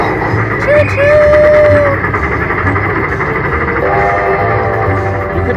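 A train whistle effect from the Midnight Express slot machine game sounds two short rising toots over steady electronic casino jingle music and chimes, with a person talking over the machine.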